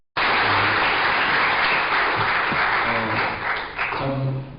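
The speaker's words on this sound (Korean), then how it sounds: "박수 한 번만 해주시기" Church congregation clapping during a Korean church merger and elder installation service, a sustained round of applause that starts abruptly and holds loud throughout, with faint voices and a few tonal hums mixed in.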